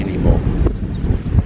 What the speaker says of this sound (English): so trying to get out of the wind.